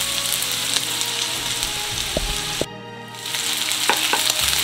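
Ham sizzling steadily in a frying pan, with onion nearby, a loud continuous crackle broken by a brief near-silent dip partway through and a few light utensil clinks, no talking.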